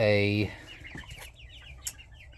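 A loud, drawn-out squawk up close followed by several softer clucks and chirps from nearby young Marans-mix chickens, about seven weeks old.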